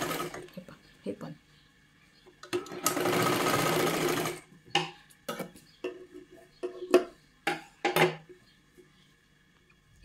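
Stitching a size 36 katori blouse, a sewing machine whirs in one burst of about a second and a half, surrounded by light clicks and fabric handling, close, with some quiet talk around it.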